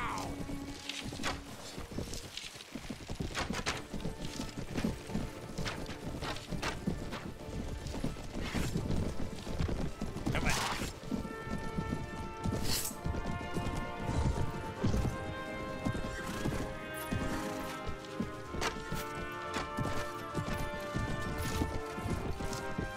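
Horses galloping in a cavalry charge in the video game Mount and Blade Warband, rapid hoof clatter and thuds layered with crashes and combat clangs, dense and continuous, with a voice speaking over it.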